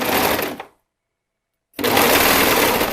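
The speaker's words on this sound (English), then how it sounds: "It's always hard to start out on a serger." A serger stitching a fabric seam at the V neckline of a gown, running in a steady loud whir that stops for about a second and then starts again.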